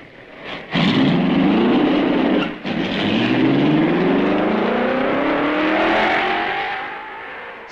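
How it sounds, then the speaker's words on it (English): A 1955 Formula One race car sets off at Spa, its engine revving hard and climbing through the gears with rising pitch, loud and close, followed by sustained high-revving acceleration that slowly fades. "The road is clear, and Eugenio Castellotti starts the wheels rolling"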